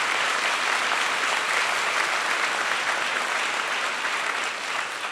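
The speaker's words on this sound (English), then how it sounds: "Let's give all these former governors a round of applause." An audience at a National Governors Association summer meeting applauds former governors, with loud, dense, sustained clapping that fades slightly toward the end.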